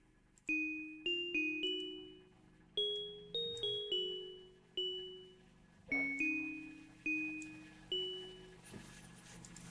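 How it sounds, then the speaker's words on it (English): Bright bell-like tones strike in short melodic runs, each ringing out and decaying, repeating in phrases within a music track, fairly soft overall. "That's a bell sound going in the background there."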